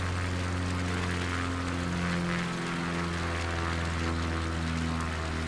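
Steady drone of a propeller aircraft engine throttled back in a flight simulator, a continuous even hum with a low rumble held at one level throughout and no voices.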